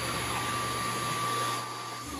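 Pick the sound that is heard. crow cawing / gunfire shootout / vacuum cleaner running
vacuum cleaner running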